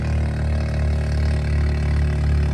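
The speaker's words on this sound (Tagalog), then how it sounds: "Lakas po sa hatak ng kanyang makina." A fishing boat's engine runs steadily at close range during handline fishing in the Moro Gulf, giving a loud, continuous mid-pitched drone with even harmonic hum and no talk over it.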